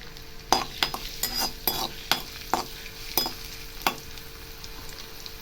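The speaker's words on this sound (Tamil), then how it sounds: "இப்போ எண்ணெய் ஹீட் ஆனதும் பொடியாக நறுக்குன்னா பூண்டு இஞ்சி இதை போட்டுக்கலாம்" Chopped garlic and ginger sizzle lightly in hot oil in a pan under repeated scraping and stirring clicks from a utensil, steady and close.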